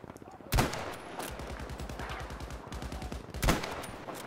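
Gunfire in the video game Battlefield V: two loud sharp shots stand out, with rapid automatic fire rattling between them over a busy battle background.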